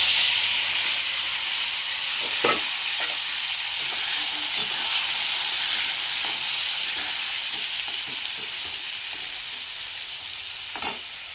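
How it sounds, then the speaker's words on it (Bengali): Papaya and potato pieces fry with spices in a pan, a steady close sizzle and hiss running throughout, with a few soft stirring clicks and scrapes. "পেঁপে আলু লাল লাল করে ভেজে তারপরে মশলা দিয়েছি, মশলাটাও একদম লাল হয়ে গেছে"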